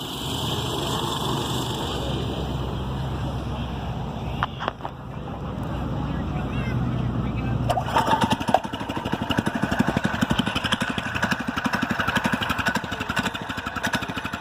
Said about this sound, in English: That's a 212 Predator grafted to a ATV transmission